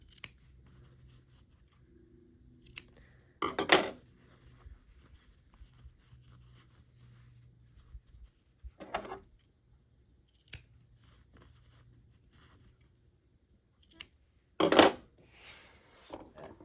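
Scissors snip fabric overhangs off half-square triangle quilt blocks in a few sharp, separate cuts spaced across long near-silent stretches, close and crisp with faint handling sounds between.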